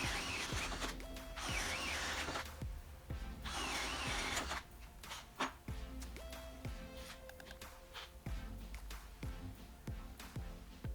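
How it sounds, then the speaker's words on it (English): Two cordless drills, an Ozito 18V brushed and a Milwaukee Fuel 12V, boring holes in wood with a spade bit, giving repeated bursts of whirring motor and cutting noise separated by short pauses, close and sped up. "Here's a few more holes to drill out with both drills."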